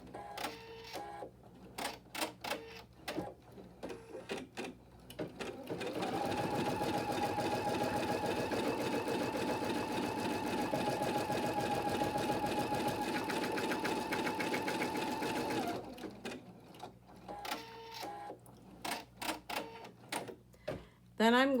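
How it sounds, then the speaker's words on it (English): An embroidery machine stitches around a fabric placement line for a clover design, a loud steady mechanical whirr lasting about ten seconds, framed by quieter clicks and handling noises before and after, with a voice speaking at points. "I am going to stitch around the placement line for the fabric."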